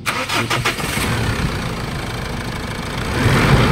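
A Mitsubishi Montero engine revs hard toward 4,000 rpm with a turbo whistle, a loud, steady, close roar that swells slightly near the end. No one speaks.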